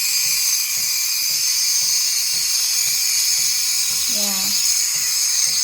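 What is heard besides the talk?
GEMILAI 3005G espresso machine steam wand steaming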